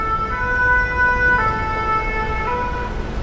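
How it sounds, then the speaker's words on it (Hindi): A siren wails nearby at the Paris catacombs, its high tones rising and falling continuously over a low background rumble, with no voices. "देखा, सायरन भी बज गया है।"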